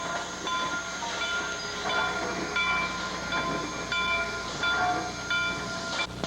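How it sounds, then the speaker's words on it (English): A mixed train of passenger and freight cars backs down, rumbling and squealing slowly past, with steady wheel noise, metallic screeching and clanking from the cars, fairly close and continuous. "this is the mixed train backing down from Godrich"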